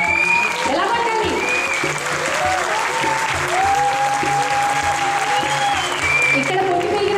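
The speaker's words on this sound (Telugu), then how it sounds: "మీ నీరసంగా చప్పట్లు కొడితే ఎలా" An audience claps steadily at a Telugu community Ugadi celebration in Houston, a continuous patter of applause filling the hall while people speak over it.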